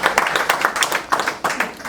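A crowd at a UDPS political rally claps for the president in quick rhythmic bursts, a steady patter of many hands that swells and dips without pause.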